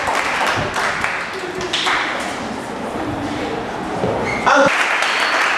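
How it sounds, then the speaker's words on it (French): Audience applause at a school debate event, steady dense clapping throughout, fairly close, with a few clatters and a brief tonal ping near the end. "Encore, on applaudit."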